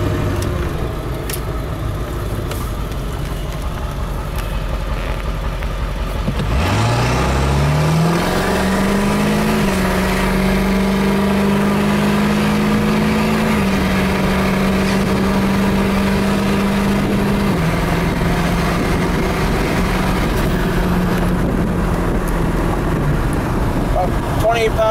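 A Ford 7.3 Powerstroke diesel truck running a 75-horsepower tune accelerates hard from a steady cabin drone, its engine note climbing and holding loud over heavy road and wind noise, with a voice speaking briefly.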